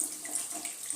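Water pours steadily into a pan of mushroom curry with a continuous, close splashing rush, moderately quiet and unbroken.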